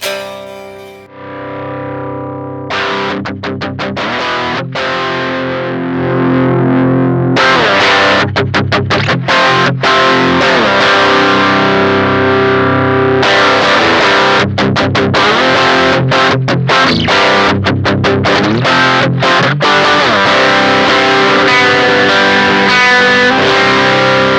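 Loud electric guitar played through a Harby Pedals Noble Tone distortion pedal, with chugging chords and sustained notes starting and stopping in bursts, no voices.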